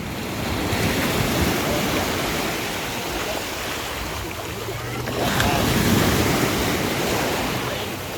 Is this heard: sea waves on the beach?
yes